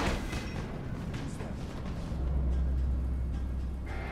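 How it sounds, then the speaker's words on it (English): Firecracker fireworks go off in the Dying Light video game, a series of quiet booms and crackles, then a deeper rumble that swells partway through and continues, with no speech. "got him over there looking at the fireworks"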